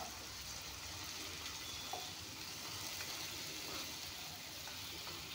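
Raw banana pieces frying in a pan give a steady, soft sizzle and crackle that runs unbroken from start to finish, close by and moderately quiet, with no voices.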